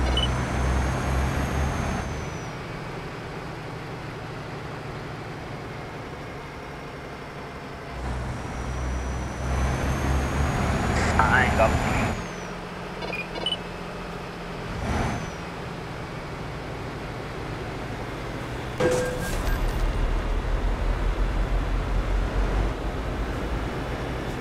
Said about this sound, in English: Sounds lovely, this truck.